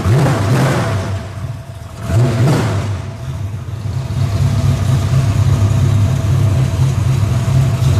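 A Ford 351 Windsor V8 with an aggressive cam fires up, with two sharp revving bursts before it settles into a loud, lumpy idle, heard close by.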